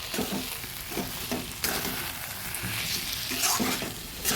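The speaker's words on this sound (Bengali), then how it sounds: "এবার দিয়ে দেবো একটুখানি ঘি মিশিয়ে দিলাম" Ghee stirred into a frying cabbage curry, a dense crackling sizzle near at hand with faint spoon scrapes and clinks against the pan, steady throughout and free of speech.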